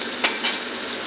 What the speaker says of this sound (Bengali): পেঁয়াজে হালকা করে একটু ভাজা করে নিই।